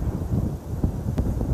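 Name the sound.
strong gale wind blowing on microphone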